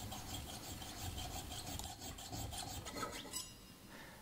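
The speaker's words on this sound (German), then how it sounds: "Dazu durchbohre ich den Silberstab und säge zwei Schnitte innerhalb des Materials." Steady rasping strokes of a fine saw working through a silver rod, continuous and close, with a gritty back-and-forth texture and no voices.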